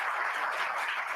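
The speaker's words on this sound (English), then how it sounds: "Give a round of applause for the people I just tortured." Soft, distant audience applause at a conference session blends into an even wash of clapping that holds steady without voices.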